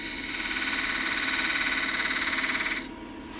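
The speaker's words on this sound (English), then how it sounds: "Using my half-inch skew right there I'm just barely taking a little tiny, tiny bit off of the recess" A half-inch skew chisel takes a light trimming cut on the recess of a spinning maple box on a lathe, giving a steady high-pitched scraping hiss that stops abruptly near the end, leaving quiet lathe hum.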